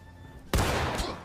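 Single loud, close musket gunshot in the video game War of Rights, a sharp sudden crack halfway through after quiet ambience, followed by a sustained booming rumble and echo.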